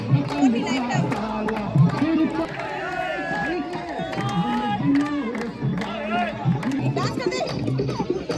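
A crowd mills about after a Holika Dahan bonfire at Holi, loud overlapping chatter and shouts close by, with voices talking throughout.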